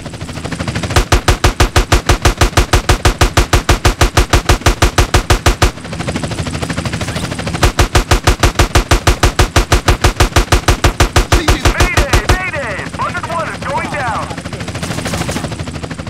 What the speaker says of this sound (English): Buzzard 1, we are taking ground fire.